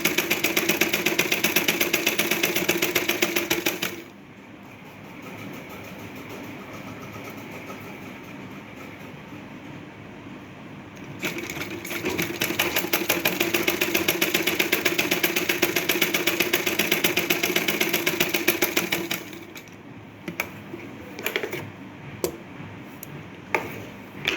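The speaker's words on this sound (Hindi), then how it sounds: "अब मैं इसे ऐसे ही बिल्कुल इसके पास पास में सिलाई लगा दूँगी" A sewing machine runs close by, sewing a strip along a blouse. A loud, steady motor whir runs in long stretches and softens between runs, then stops near the end, leaving scattered clicks and handling sounds.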